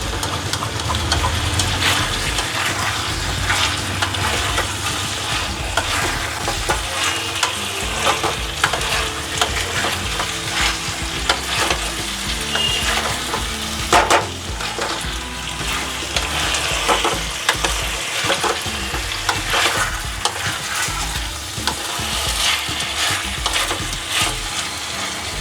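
Chicken pieces coated in ginger-garlic paste are stirred and fried in a pan for a green hariyali chicken curry, with a steady loud sizzle and continuous scraping of the spoon throughout.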